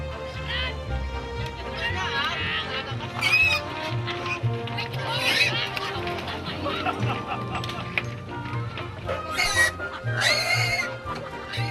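Pigs squeal and oink loudly in bursts while being moved in a floating village on a large lake, with villagers talking and shouting throughout amid general commotion.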